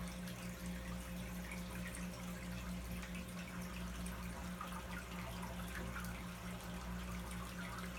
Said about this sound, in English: once the water is draining again, then you can see the water come out of here